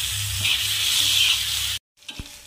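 Tomato bharit with sambar masala being stirred in a pan, a loud continuous sizzle for most of the moment that cuts off abruptly, followed by a couple of faint soft knocks.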